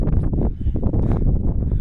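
Strong, cold wind buffets the microphone continuously beside cold water on the Kailash Yatra route, a loud, steady roar with gusty swells throughout.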